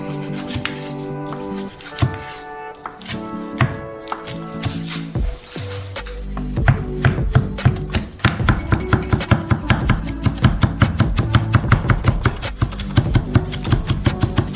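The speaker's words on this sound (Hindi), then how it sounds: "खैर आखिरी चीज काटेंगे, बेकन।" A knife chops through bacon on a cutting board, first in slower uneven cuts, then settling into a steady rapid rhythm of close, crisp thuds.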